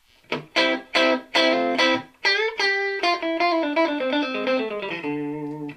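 An electric guitar played through a PRS SE50 amp with its distortion turned down for more clarity: several sharp strummed chords, then ringing picked single notes that sustain and decay.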